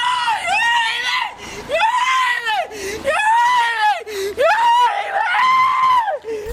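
A woman screams loudly and repeatedly in long, rising and falling wails while being handcuffed and arrested by a police officer, close up, with brief gaps between cries.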